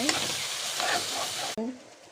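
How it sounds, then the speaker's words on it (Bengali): Ginger-garlic paste frying with browned onions in a hot pan gives a steady, fairly loud sizzle with stirring. It breaks off sharply near the end and returns as a quieter hiss. "এখন আদাটা একটু ভেজে নেব।"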